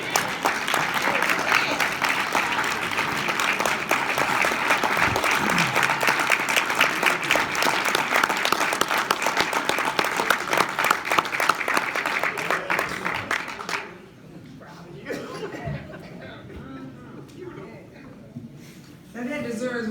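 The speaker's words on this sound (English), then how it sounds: "Now that deserves one more standing ovation and a round of applause" A standing ovation fills a large hall, with loud sustained audience clapping and crowd noise for about fourteen seconds before it drops away into quieter room sound and some talking.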